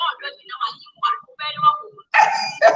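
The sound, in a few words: dog barking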